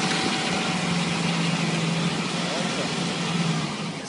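A Toyota Land Cruiser Prado 150 engine churning through mud, a loud steady mid-pitched drone with a faint whine over it, holding constant throughout without clear revving.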